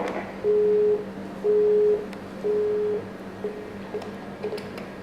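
A telephone busy tone after a line is hung up: three steady beeps in an even on-off rhythm, then quieter fragments, clear and alone over a low background hum.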